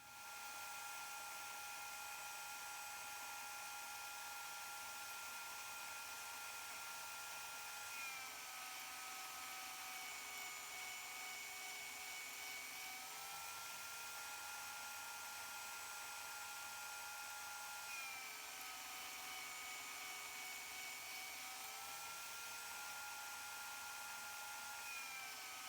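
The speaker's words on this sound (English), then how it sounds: "But the hard part comes to sanding." Power sanding of rough-cut slices of ash wood, a continuous whining, buzzing drone with shifting pitch as the sander works the surface, steady and fairly close throughout with no voices.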